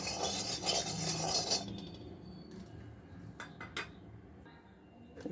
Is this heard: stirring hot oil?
yes